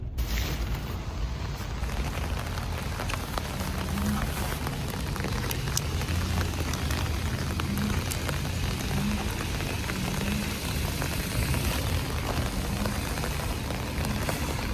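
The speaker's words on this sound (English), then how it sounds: "Man, it's been raining all day." Steady rain falls through a rainy night, a dense, continuous hiss of drops hitting surfaces close by, with faint low rumbles underneath and no voices.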